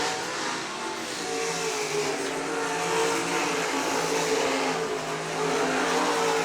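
Sprint cars race at I-96 Speedway with a dense, loud, sustained roar of engines that rises and falls slightly as they run through the turns.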